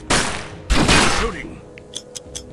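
Gunfire in the PC game UFO: Afterlight comes as two loud bursts of shots close together, then a few short, fainter sharp sounds trail off.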